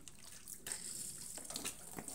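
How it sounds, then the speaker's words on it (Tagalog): Cold tap water runs and splashes softly while clothes such as thick winter thermal leggings are rinsed by hand, a quiet continuous flow with a brief stronger gush partway through. "Babanlawan na natin kaya ang lamig-lamig ng tubig."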